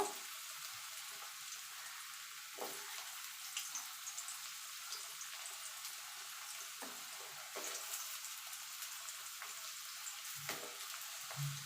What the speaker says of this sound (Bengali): এবার আলুগুলোকেও আমি লাল লাল করে ভেজে নেব